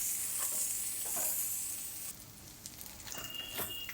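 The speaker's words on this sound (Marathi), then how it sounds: "तर मस्त कांदा फ्राय झाला." Onion fries in a pan for an aubergine dish, giving a steady close sizzle with light crackles and a few stirring clinks, with no talking.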